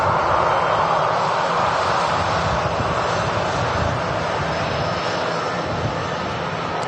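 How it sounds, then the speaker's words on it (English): An EasyJet airliner's jet engines roar steadily on its takeoff roll at Manchester Airport, a loud, sustained broadband rumble heard from a distance without a break. "EasyJet on the roll."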